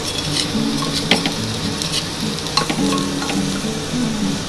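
Khichuri of Gobindobhog rice and moong dal with a little ghee being stirred in a pan, a close steady sizzle broken by repeated scrapes and clinks of a spoon against the metal.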